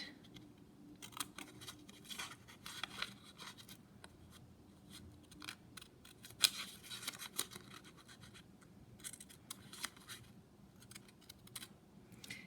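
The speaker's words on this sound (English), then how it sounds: "So your small little scissors will be a lot easier." Quiet, close snipping and scratchy cutting sounds, scattered irregular strokes of small scissors through paper with soft rustling between cuts.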